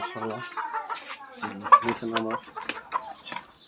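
Fayoumi and tiger chickens cluck in a cage, with a run of short, close clucks and calls bunched together and loud, broken by brief pauses.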